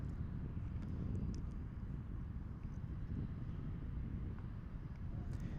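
A heavy American Airlines airliner at DFW airport gives off a steady, low, wind-blown roar that holds at a constant level throughout, with no voices.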